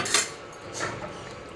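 A spoon scrapes and clinks against a pan while ghee and gram flour Mysore pak mixture is stirred, two or three short, close metallic strokes over a quiet background.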